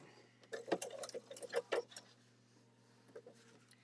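A sewing machine stitches quilt block lines a quarter inch from a drawn line, running in short bursts of rapid mechanical stitching with a steady low hum beneath, then fading to near quiet before a brief final burst.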